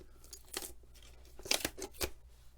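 Old fiberboard, a compressed-paper insole, being torn out of an Alden shell shoe during repair, heard as several short, close ripping bursts with brief pauses between them.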